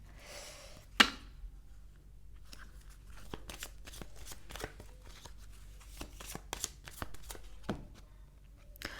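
Unicorn oracle cards are shuffled close by in a series of crisp, uneven riffling clicks and soft flutters, with one sharper snap near the start and no voices over them.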